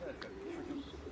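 Young pigeons cooing, a soft low throaty coo close by under steady background noise, with a voice speaking at the same time.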